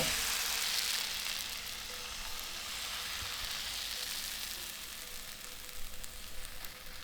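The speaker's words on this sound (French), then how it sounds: "On verse ensuite la pâte dans la poêle." Buckwheat and brown rice crêpe batter sizzles steadily in a buttered pan, a close, continuous hiss that slowly eases without any talking.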